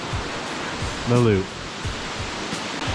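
Steady broadband rush of a waterfall along the Blue Ridge Parkway, constant and fairly loud, with a short voice heard briefly over the roar.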